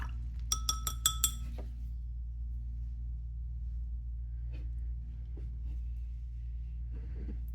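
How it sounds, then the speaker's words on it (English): A paintbrush clinks against a glass water jar several times in a quick burst, close and fairly bright, then a few faint taps follow over a steady low hum. "Rinse off your brush."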